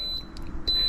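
An electronic system in a van emits a steady high-pitched beep at the end of a procedure, the tone sounding, pausing briefly, then resuming loud and close.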